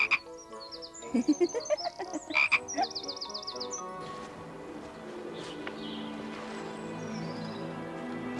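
A frog croaks in a garden, a quick run of loud, close, rasping croaks in the first few seconds before fading into a softer, steady background murmur.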